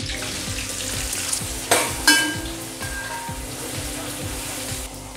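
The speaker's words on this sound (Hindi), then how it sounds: "अब हम प्याज को फ्राई करेंगे।" Sliced onions fry in hot oil with cardamom, black pepper and mace for a chicken korma. A steady, close sizzle carries throughout, broken by a couple of sharp clinks from stirring.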